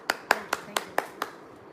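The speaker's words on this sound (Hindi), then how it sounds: "ज़ोरदार तालियों से स्वागत करना चाहूँगा अक्षी दत्ता जी का" A handful of sharp, evenly spaced hand claps, about six in quick rhythm, welcome Akshi Datta at a network marketing seminar on goal setting. They ring out close and clear, then fade to quiet.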